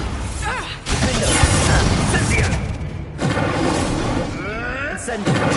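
Spell blasts from the Bombarda and Confringo charms in Hogwarts Legacy, a loud, dense run of booming explosions and crackling impacts that fill nearly the whole stretch, with a brief drop near the start and another mid-way.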